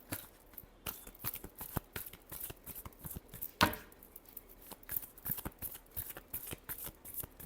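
Tarot cards are shuffled by hand, close and steady, a rapid crisp riffle of flicking and slapping card edges that runs without a break, with one sharper snap partway through.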